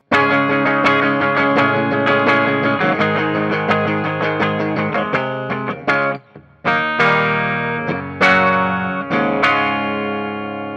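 Distorted electric guitar on the bridge pickup of a 2020 Fender Parallel Universe Vol II Troublemaker Tele Deluxe, playing chords and picked notes with a bright, biting tone and effects, loud and continuous with a brief drop near the end.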